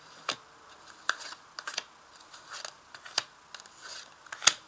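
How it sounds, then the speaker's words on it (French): Tarot cards are drawn and laid down on a surface, giving sparse, faint taps and light snaps at irregular intervals. The sounds are close and quiet, with no talking. "Alors on va ajouter des cartes."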